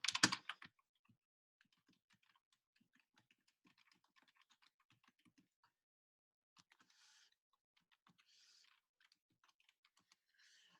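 Keys on a computer keyboard are typed quietly. A louder clatter of keystrokes comes first, then sparse, faint, irregular clicks follow with quiet gaps between them.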